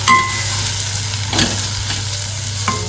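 Onion-tomato masala fries in a pan with turmeric added, a steady close sizzle running throughout, broken by a few brief stirring scrapes and faint clinks.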